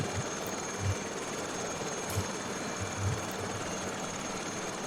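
Steady, dense whine and roar of an Aérospatiale Lama SA315B helicopter turbine and rotor in Microsoft Flight Simulator 2020, continuous and loud throughout with faint periodic low thumps.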